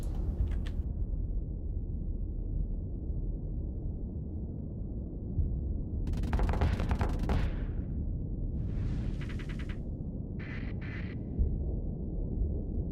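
Weapons fire and missile launches in the space combat game Starsector, with a steady low rumble of battle and several bursts of shots and explosions, one dense volley standing out midway through, with no voices.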